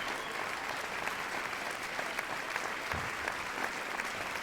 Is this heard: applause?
yes